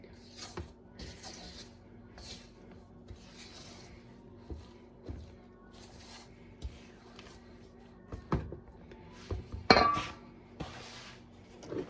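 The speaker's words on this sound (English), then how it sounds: "Scrape down the sides again." A spatula scraping down the sides of a mixing bowl of holiday cookie dough gives soft repeated strokes and occasional light clinks and knocks, fairly quiet against a still kitchen, with one sharper clatter near the end.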